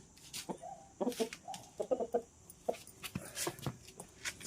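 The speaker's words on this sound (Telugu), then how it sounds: "ఈరోజు మీ ముందుకి పెరుగు క్రాస్ పుంజు తీసుకొచ్చానండి" A Peru cross rooster clucks again and again in uneven bursts, close and clear over light background noise, with no voices.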